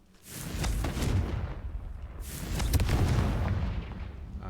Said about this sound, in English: Confringo works